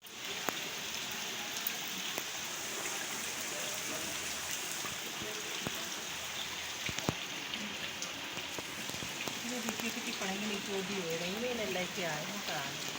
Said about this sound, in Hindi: अभी भी बारिश लगातार हो रही है